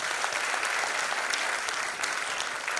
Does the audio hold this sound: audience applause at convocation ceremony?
yes